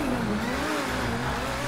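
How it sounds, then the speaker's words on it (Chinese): An engine revs hard at full throttle during a GTA 5 online race, a loud, steady, continuous drone whose pitch climbs and sways over about two seconds, with no talk over it. "引擎全开啊！"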